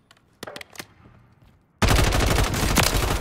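Automatic weapon fire in the video game Warzone: a few scattered shots, then a sudden sustained loud burst of rapid gunfire that lasts to the end.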